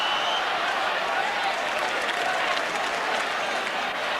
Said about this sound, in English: it's the Notts County supporters you can hear now